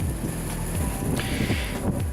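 Strong storm wind gusting around tall trees, a rough, buffeting roar with irregular surges and microphone-like rumble, close and continuous.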